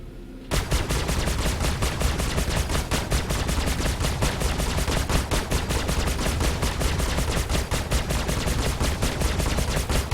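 A spacecraft's weapons in Star Citizen fire a long, unbroken stream of rapid, evenly spaced shots, loud and close, starting abruptly and continuing steadily for about ten seconds with no talk.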